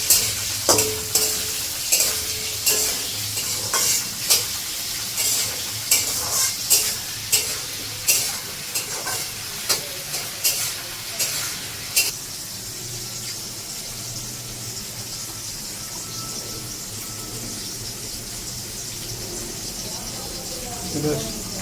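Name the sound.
frying in mustard oil in a pan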